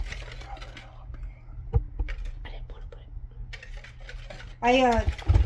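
Cake batter being mixed with flour in a bowl, with scraping and clinking of a utensil against the bowl alongside soft whispered speech and a louder voice near the end.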